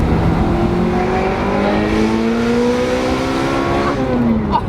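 A Ferrari 355 Spider's engine pulls hard while driving, a loud, steady rising howl climbing through gears with one brief shift near the end; no voices over it.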